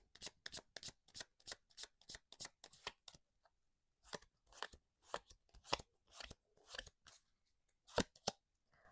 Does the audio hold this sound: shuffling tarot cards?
yes